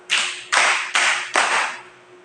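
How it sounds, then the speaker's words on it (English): A class gives four claps for a group: four sharp, evenly spaced bursts of applause from many hands, close and loud, the last one fading out. "give group 2 4 claps"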